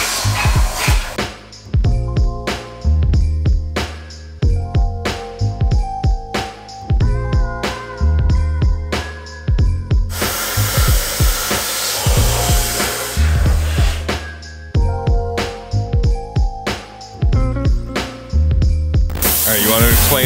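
A saw cuts through the front frame cross member of a church van being converted to four-wheel drive, its harsh rhythmic strokes loud and close, repeating in bursts with a sustained stretch of noisy grinding partway through.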